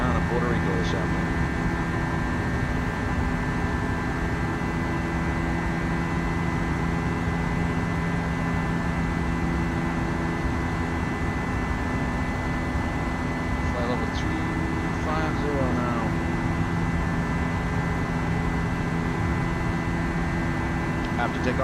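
A JetBlue airliner taking off from Washington KDCA, bound for San Juan, heard as a steady, loud jet engine drone with a constant hum throughout, and people talking faintly over it.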